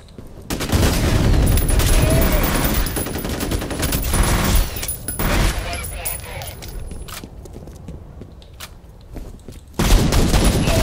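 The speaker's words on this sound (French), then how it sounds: "grenade." Dense, loud automatic gunfire and crashing blasts in the video game F.E.A.R., with a grenade explosion among rapid shots, then a renewed heavy burst at the end.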